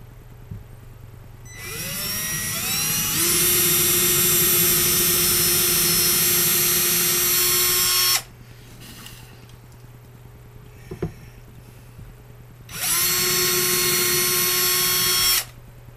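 A power drill bores into a wooden .22 long rifle stock, whining steadily at high pitch for about six seconds, stopping, then starting again for a second run, loud and close, with no talk.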